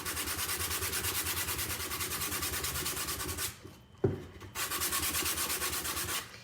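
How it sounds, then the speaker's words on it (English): Sandpaper rubs across a cardboard shoe box in fast, even back-and-forth strokes, a close rasping scrape that stops briefly near the middle with a small knock, then resumes at the same rhythm. "And now with the sandpaper, I'm also creating an even tone on my box."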